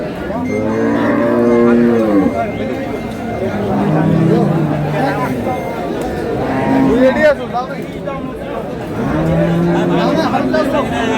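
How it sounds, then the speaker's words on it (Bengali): At a busy rural cattle market, a cow with her calf lets out several long, deep moos, loud and close, while people chatter in the background. "এখানে একটি গাভী বাছুর দেখছেন"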